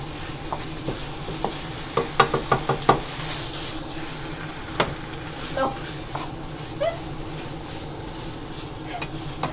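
Holy basil chicken stir-fried in a steel wok sizzles continuously while a spatula scrapes and clanks against the metal in quick bursts, busiest early on, with faint voices in the background.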